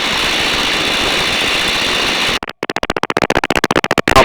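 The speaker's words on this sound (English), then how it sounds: "I've brought the engine's power back a bit now, so there's a bit less background noise." A de Havilland Tiger Moth biplane's engine drones steadily in flight for a couple of seconds, then breaks into a rapid choppy pulsing as power is reduced.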